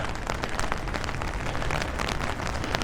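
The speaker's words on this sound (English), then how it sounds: "This is a good rain." Rain falls steadily without wind in a middle-class neighborhood in the Philippines. A dense, even patter hits surfaces nearby, continuous and fairly loud.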